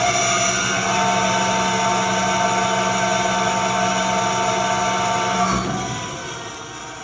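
A connecting rod honing machine for a Ford short block runs with coolant flowing, giving a steady, loud mechanical hum and whine that shifts and drops slightly near the end.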